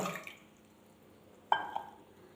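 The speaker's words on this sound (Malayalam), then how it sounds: "ആ കുതിർത്തി വെച്ച വെള്ളം കൂടി ഇതിലേക്ക് ഒഴിക്കുന്നുണ്ട് കേട്ടോ" Soaking water from dates splashes into a blender jar for a ragi smoothie, with a short pour at the start and a sharp splash and trickle halfway through, both faint in a quiet kitchen.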